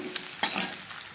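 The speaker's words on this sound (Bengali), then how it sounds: "আর এখানে যে ডিমের অমলেট করা হচ্ছে" An egg omelette fries in a pan in a home kitchen, giving a soft, steady sizzle with a brief louder scrape of stirring partway through.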